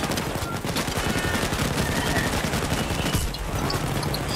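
Dense automatic gunfire in Payday 2, rapid overlapping shots of several weapons firing nonstop and loud for the whole stretch, with a brief dip near the end.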